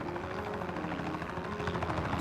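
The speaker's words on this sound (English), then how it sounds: "It's a helicopter!" An audio-drama helicopter hovers above with a steady, dense rotor chop and engine drone, loud and continuous and swelling slightly toward the end, with no voices over it.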